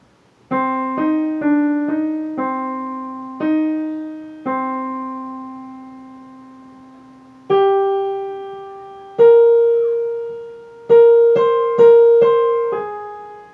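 A keyboard plays the third line of Khachaturian's Andantino: a slow run of clear, separate single notes, mostly short with two longer held tones, moving between a low register and a higher one. The playing is close and moderately loud, with no voices.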